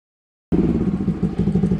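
A CSC Wolf 125 motorcycle engine starts abruptly after a moment of silence and runs with a loud, close, throbbing mid-pitched idle and slight throttle surges.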